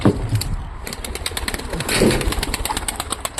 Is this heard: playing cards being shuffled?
no